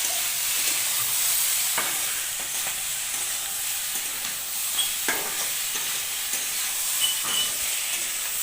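Potatoes frying in a pan: a continuous bright sizzle, with repeated scraping and tapping strokes from stirring spread throughout.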